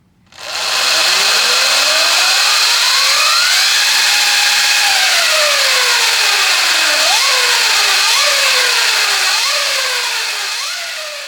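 A Sur-Ron 72-volt electric bike set at 14.5 kilowatts with a Warp 9 chain drive conversion runs at half throttle, its loud, close motor whine climbing steadily in pitch, then swooping up and down in repeated surges over a constant high hiss.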